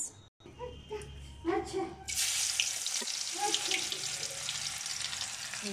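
Onions drop into hot oil and burst into a loud, continuous sizzle about two seconds in, following quieter clatter and a voice speaking beforehand.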